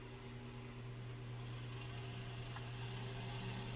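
A sewing machine winds a bobbin at an unhurried pace, giving a steady, close motor hum with a constant whir that runs without pause for the whole stretch.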